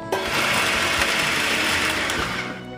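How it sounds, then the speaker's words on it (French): Kitchen blender coarsely chopping carrots for chicken nems, a loud steady whirring motor that runs continuously for a few seconds and then tapers off at the end. "Je vais maintenant mixer grossièrement tous mes ingrédients. Je vais commencer par les carottes."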